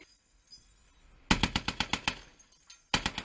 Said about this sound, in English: they fire 50 caliber rounds at a rapid rate